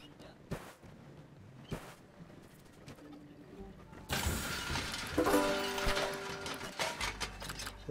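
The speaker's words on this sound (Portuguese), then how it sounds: "Ouviram o barulhinho aí, é sinal de que conquistamos mais um objetivo aqui" Objective-complete chime in the survival game Flotsam, a bright burst of tones rising suddenly over quiet ambient game sounds and lingering for a few seconds, fairly loud and close.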